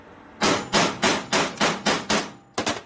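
A hammer strikes a steel crank pin key on a 1990s Harley-Davidson Sportster 1200 crankshaft flywheel about eight times in a steady rhythm, each blow sharp and loud, with a quick double hit at the end.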